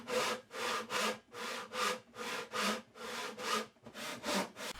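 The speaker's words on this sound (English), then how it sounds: "bringing the saw perpendicular to the side of the box" A hand saw cuts into the side of a wooden mitered box held in a vise, about eleven rhythmic rasping strokes back and forth, close and clear, with no talking.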